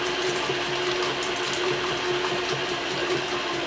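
An electric mixer beats Irish soda bread batter in a bowl, giving a steady, continuous whirring hum with a faint rhythmic churning throughout, close and unbroken.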